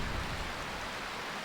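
Steady rain in Final Fantasy IX hisses as a dense, even wash of noise, constant and fairly soft with no pauses.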